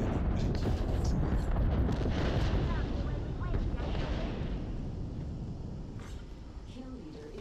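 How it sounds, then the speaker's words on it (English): An airstrike in the Apex Legends video game, a dense continuous rumble of explosions that stays loud and booming throughout, fading slightly toward the end, with speech mixed in. "Signaling an airstrike."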